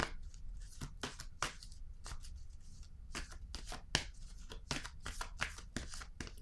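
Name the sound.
shuffling tarot cards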